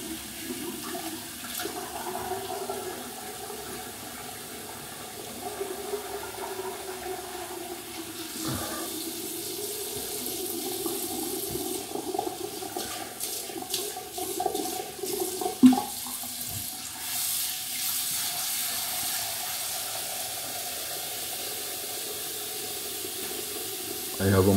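Tap water runs steadily while a double-edge razor fitted with a Super-Max Super Stainless blade is rinsed at a sink during a shave, a continuous close hiss with brief splashes and clatter partway through.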